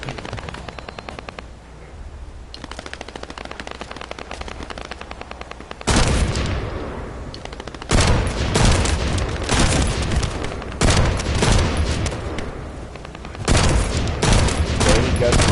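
Dense bursts of automatic gunfire in the shooter game The First Descendant, loud and sustained with brief pauses between volleys, no talking over it.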